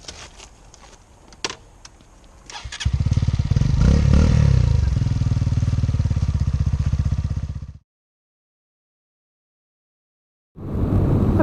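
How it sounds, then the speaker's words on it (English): A 2017 Sinnis RSX125 motorcycle's engine starts with some clatter, then runs loud and steady up close for several seconds before cutting out to silence, and another burst of engine noise begins at the very end. "you can actually run the engine, whereas you can't do that when it's on the side stand."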